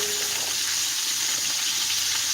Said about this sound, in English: I'm going to add my onions. Nice and thickly sliced onions.